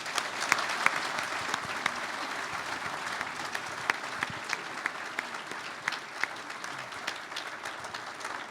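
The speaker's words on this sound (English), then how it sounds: "I really want to give them a round of applause" A conference audience gives a round of applause to presenters, a moderately distant, steady patter of many hands clapping with scattered sharper claps sustained throughout.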